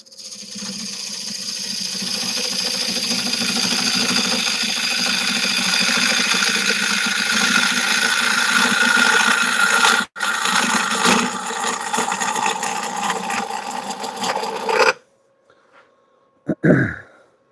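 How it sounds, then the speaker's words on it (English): A square carbide tool cuts into wood spinning on a lathe, a loud continuous rough scraping whine with a brief break, then stopping, followed by a couple of short knocks. "I'm going to do that more so with the square carbide."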